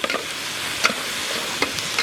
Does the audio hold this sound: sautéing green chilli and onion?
yes